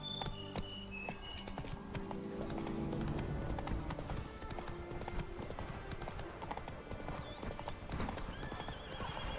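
Roach the horse gallops in The Witcher 3, rapid rhythmic hoofbeats with whinnies and neighs over game music and ambience, steady throughout.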